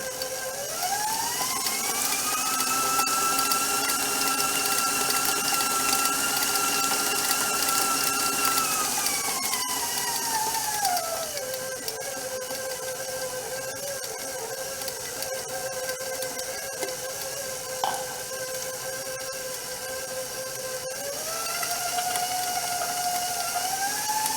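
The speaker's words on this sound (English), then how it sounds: "Then you can crank up your speed. Don't be afraid of the speed of your mixer." Electric mixer beating eggs at high speed for churros dough: a steady whirring motor whine that rises in pitch, drops midway, then climbs again near the end, loud and continuous with no talk.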